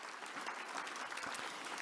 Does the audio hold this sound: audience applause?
yes